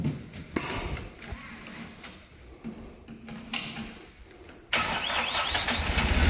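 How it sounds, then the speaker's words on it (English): A 2018 Princeton PB55.3 truck-mounted piggyback forklift engine cranks with several short starter bursts, then catches near the end and settles into a louder, steady running idle. "we're going to go ahead and fire it up just so you can hear the engine run."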